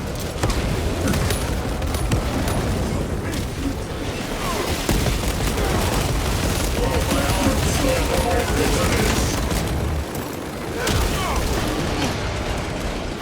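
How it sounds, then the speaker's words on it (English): Frag grenade blasts and heavy combat in Warhammer 40K Space Marine 2 form a dense, continuous barrage of booms, bursts and mechanical clatter, with a brief lull before more loud detonations. "Releasing frag grenade"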